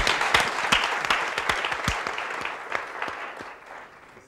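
Studio audience applause on a Turkish hidden-camera prank show: dense, close clapping from a crowd that gradually fades over a few seconds.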